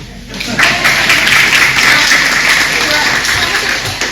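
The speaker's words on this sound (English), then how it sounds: "Everybody applaud." Audience applause at a three-county meet-the-candidates event rises after a brief lull, a steady wash of clapping held for several seconds at close range.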